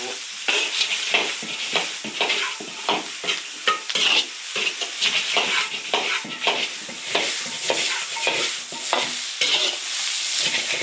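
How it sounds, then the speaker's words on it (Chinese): Chili peppers are stir-fried in an iron wok, with a rapid run of spatula scrapes and clacks over a steady bright sizzle of hot oil. "把辣椒炒香炒熟"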